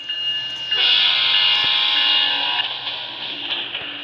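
A video game train runs along the track with a bright, sustained horn-like tone swelling in and slowly fading over a low rumble.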